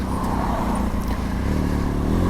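A Benelli TRK 502X motorcycle on a wet, windy commute to work, its engine droning steadily and close, mixed with road and wind rumble, continuous with no gaps.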